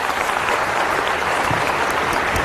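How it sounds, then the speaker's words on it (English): A crowd claps loudly and steadily for foster care youth, a short, dense burst of applause from many people close by. "Can we give them a round of applause?"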